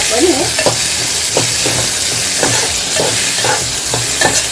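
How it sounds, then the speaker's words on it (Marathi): Asafoetida is sautéed in hot oil, a close sizzle broken by regular spoon strokes roughly every second, with no voices. "आणि हिंग परतून घेऊया"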